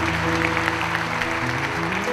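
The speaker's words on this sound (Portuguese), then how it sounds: "Vamos aplaudir ao Senhor por esta obra maravilhosa." A church congregation applauds during a worship service, steady clapping throughout with a sustained tone and voices underneath.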